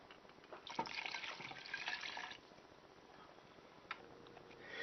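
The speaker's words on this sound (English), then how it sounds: "and 2 cups of water." Water pours into a pot of tortilla soup in a quiet, steady splashing stream of about a second and a half, followed by calm and a faint knock.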